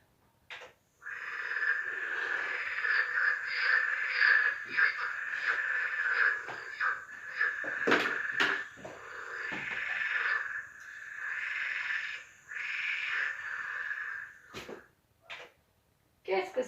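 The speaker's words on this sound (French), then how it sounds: "le chant des grenouilles" A chorus of frogs croaking, a steady trilling, pulsing chatter that runs almost without pause for about fifteen seconds, fairly loud and close, with a few sharper clicks near the end.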